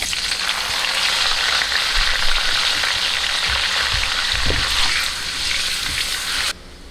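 Peppers deep-frying in hot oil give a loud, dense sizzle and bubbling, with a few scraping clunks as a spider strainer lifts them out, and the sizzle drops abruptly near the end.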